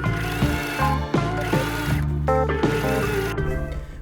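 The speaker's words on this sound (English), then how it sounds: "Sew an edge stitch along the shield." Sewing machine running an edge stitch along the fly shield of wide-leg summer trousers, a steady mechanical whirring with rhythmic clacking that stops and restarts a few times, close and fairly loud.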